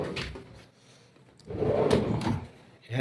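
A drawer on an aluminum study table cabinet with a wood finish slides open and shut, making rolling scrapes and a firmer thud near the end, recorded close up in a quiet room.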